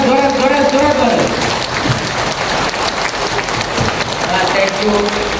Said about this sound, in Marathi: संतोष सरांच्यासाठी सगळ्यांनी हात वर करून जोरात टाळ्या वाजवा.